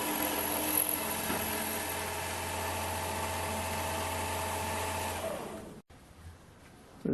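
A metal lathe drives a 5 mm drill bit through a folding camp shovel part, giving a steady whining motor drone that winds down and stops, leaving near silence.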